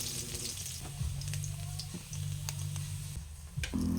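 Ginger frying in hot oil in a home kitchen pan, a steady sizzle with crackly bursts running alone for a few seconds at close range, fairly quiet.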